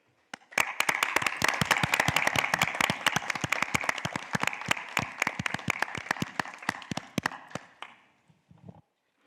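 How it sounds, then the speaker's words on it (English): An audience at a World Health Organization regional committee session applauds warmly for newly elected members, producing steady, dense clapping for several seconds that thins out and fades near the end. "I propose a warm applause for all those who were elected."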